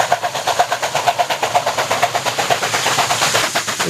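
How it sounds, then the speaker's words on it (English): A steam locomotive at Chengde Steel labours up a steep grade near tunnels, its exhaust beating in rapid, even chuffs heard from a hillside at moderate distance, steady and without talk. "Train coming up the hill, shot from a different point, high on the hill, near the tunnels."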